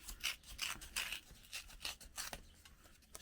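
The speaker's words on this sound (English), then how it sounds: "So I tear just about half of it off." Paper torn by hand, about half a sheet ripped away for a handmade envelope in a nature journal. A close, scratchy series of ripping bursts runs for a few seconds with no talking.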